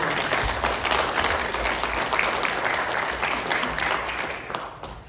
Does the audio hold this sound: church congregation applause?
yes